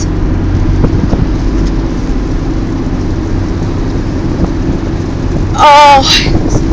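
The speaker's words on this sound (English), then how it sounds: "It's raining, by the way." Rain and thunder during a lightning storm, heard from inside a moving car: a steady wash of rain with low engine and road rumble beneath, and a brief burst of sharper sound near the end.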